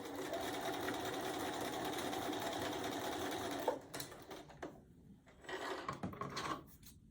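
A sewing machine stitches baby quilt pieces in a steady, fast mechanical whir for several seconds, then stops, followed by softer handling clatter and fabric rustle nearby.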